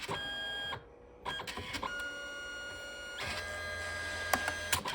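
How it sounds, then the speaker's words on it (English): A Canon Selphy CP1500 photo printer running a print from an SD card, a steady mechanical whir and hum with a brief pause, then a continued motor drone with small clicks and paper-feed shifts, close and uninterrupted. "press the OK button to start the printing"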